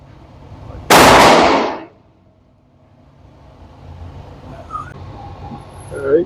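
A Ruger Mark IV 22/45 Lite pistol fires a single loud, sharp .22LR shot at an outdoor range, the crack decaying over about a second, followed by quiet background noise and small handling sounds.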